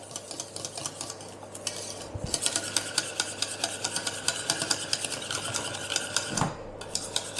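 Chocolate ganache being stirred in a saucepan, a close series of soft scraping and clinking utensil strokes against the pan in a steady rhythm, with a couple of louder knocks.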